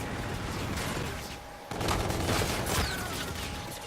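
Rapid gunfire from a machine gun in the shooter game Infinite Warfare, dense bursts with a brief drop around the middle before firing resumes loud and continuous over a busy game soundscape.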